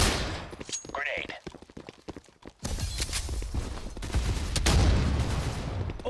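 Gunfire in a video game match, rapid bursts and overlapping shots filling the clip, loud and busy, with a caster's voice heard faintly underneath.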